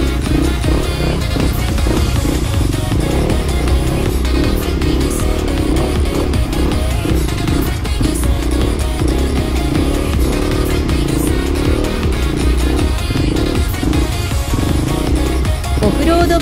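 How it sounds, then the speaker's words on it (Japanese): A Kawasaki KLX250 trail motorcycle engine revs and snarls up close while riding off-road, the pitch rising and dropping continuously as the throttle is worked. "オフロードバイク、やっぱり楽しい。"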